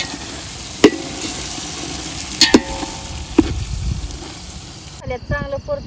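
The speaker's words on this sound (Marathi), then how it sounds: "चांगलं परतून झाले" Whole spice masala sautéing in a pan for dum biryani gravy over a wood-fired stove: a steady broadband sizzle with three sharp spoon clanks against the pan, then a brief rattling scrape at the end.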